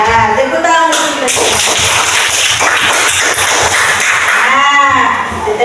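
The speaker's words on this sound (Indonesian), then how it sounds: "Nah, tepuk tangan dulu" A classroom of Indonesian children claps their hands together, a dense run of crisp, close claps that fills the moment, with voices around it at the start and end.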